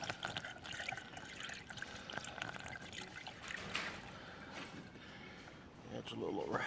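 Coolant poured from a container into a radiator funnel during an Alloyworks radiator install: a steady, close trickle and gurgle of liquid running on for several seconds while someone talks over it.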